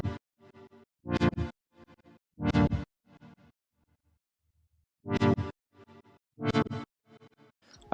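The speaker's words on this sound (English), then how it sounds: "these kickstarts, which actually made some pretty cool LFO shapes. So they're sort of stuttering and starting here and there." A synth chopped into stuttering bursts by kickstart-style LFO shapes, loud gated chords cutting in and out with quieter fragments between them and a short silent gap in the middle, played alone.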